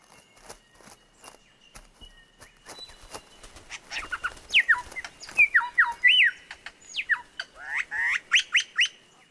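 A male lyrebird calls up close, pouring out a rapid run of loud, varied whistles, squawks and sharp chirps that grow denser and more elaborate over the second half, after a quieter stretch of clicks and rustling.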